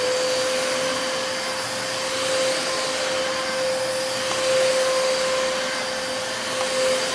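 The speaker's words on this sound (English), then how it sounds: "I noticed that the suction is more powerful than the other DC33 that I have." Dyson DC33 Multi Floor upright vacuum cleaner running steadily with strong suction, a loud continuous whooshing roar with a constant motor whine throughout, close and alone.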